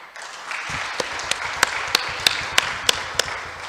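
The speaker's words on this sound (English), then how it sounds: "if we have to clap our hands, I think this committee deserves most of the claps" Audience applause at a closing ceremony: a hall of clapping hands building up, with sharp, evenly spaced loud claps standing out in a steady rhythm throughout.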